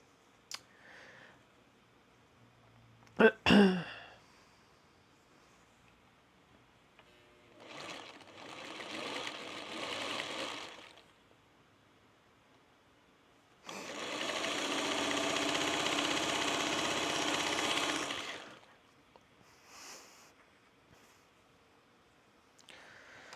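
A sewing machine stitches quilt pieces cut from a charm pack in several separate bursts, whirring close up between quiet pauses and a few sharp clicks and handling noises.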